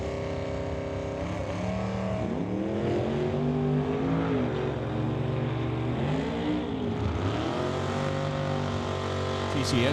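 A 1970 Camaro drag car launches down the strip at Mission Raceway during an NHRA Lucas Oil divisional race. The engine is heard from a distance, its note rising in repeated surges through the gears, with a commentator talking over it.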